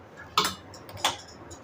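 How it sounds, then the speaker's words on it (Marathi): A cooking pot (topa) is set down on a gas stove while making jaggery puran filling for puranpoli, giving two brief metallic clinks about half a second apart against a quiet kitchen background. "गॅस पेटून घेते इथे टोप ठेवला एक"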